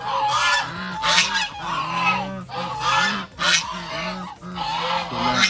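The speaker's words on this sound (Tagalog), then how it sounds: "meron pa kayong gansa" Geese kept as backyard breeders honk repeatedly and loudly close by, several overlapping calls in uneven bursts with no talking.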